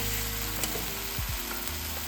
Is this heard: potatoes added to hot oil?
yes